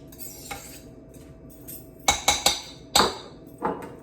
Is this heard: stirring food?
yes